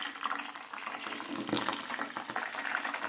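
Coconut milk simmers in a pan while being cooked down into homemade coconut oil, giving a soft, continuous bubbling with small spluttering pops close by.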